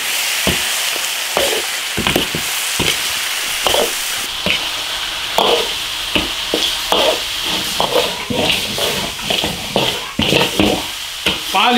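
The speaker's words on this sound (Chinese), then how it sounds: "把牛排骨炒香就行了。" Yak ribs stir-fried with light soy sauce in a cast-iron wok over high heat: a steady close sizzle broken by repeated scraping and clanking strokes of the spatula against the metal, with no talking.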